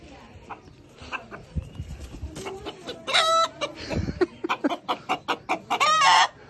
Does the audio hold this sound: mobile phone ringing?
no